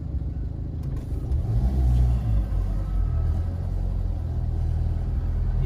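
A car idles and pulls away from a drive-thru window in Chelmsford, giving a steady low engine rumble close by that swells slightly early on and then holds, with no talking.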